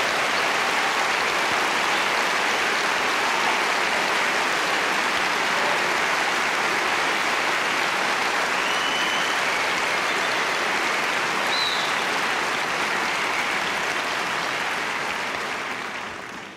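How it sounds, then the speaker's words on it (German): Long, even applause from a large audience at the German Film Awards 2012 ceremony, a dense rain-like patter of many hands that holds steady for over fifteen seconds before tapering off at the end. "Applaus"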